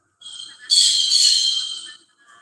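A single sustained shrill call from a pet bird in a home kitchen, rising after a softer lead-in and trailing off, loud and close with no voices.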